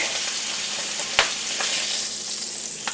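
Slightly frozen steaks sear in a hot pan with a steady, close hiss of sizzling fat, broken by a couple of sharp pops and crackles.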